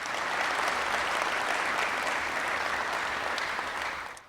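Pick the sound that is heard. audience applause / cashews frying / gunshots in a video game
audience applause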